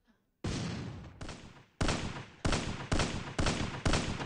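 Gunfire in a video game: repeated loud bursts of shots, about seven sharp volleys in quick succession, close and dominant with little else audible.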